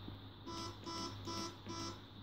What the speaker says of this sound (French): On va attendre qu'il bip. 2 bips, on est rentré dedans.